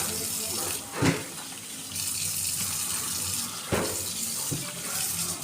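Water running from a tap during house cleaning, a steady hissing stream with a few sharp splashes and bumps, close and moderately loud, continuing throughout without talk.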